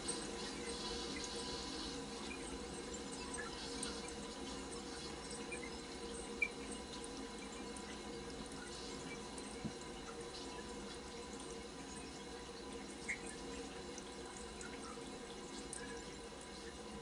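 A residential water well system drains during a pressure switch replacement, giving a faint, steady trickle and hiss of running water with a few tiny drips, heard alone and continuously.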